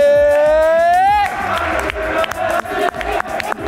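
A crowd at a French dish contest cheers and whoops loudly, a sustained rising shout giving way to scattered clapping and hollering.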